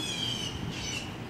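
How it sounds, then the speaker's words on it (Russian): Birds call and chirp steadily on a residential street in Shirley, New York, against a constant background hiss, a bit distant, with no voices. "птички."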